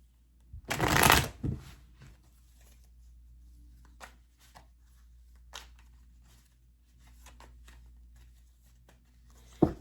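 Tarot cards are riffle-shuffled once in a loud, close burst, followed by a few soft, scattered card taps and slides in a quiet room.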